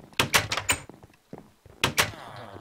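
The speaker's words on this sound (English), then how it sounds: "I don't like how this door always closes on me" Wooden doors in the Minecraft video game bang shut in a quick series of sharp, close knocks, two clusters of clicks and thumps separated by a short quiet gap.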